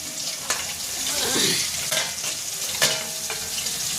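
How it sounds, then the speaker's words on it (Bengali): Boal fish frying in hot oil, a steady sizzle with occasional sharp spits and pops spread through the clip, close and moderately loud with no talking. "এই যে বোয়াল মাছ ভাজা হচ্ছে"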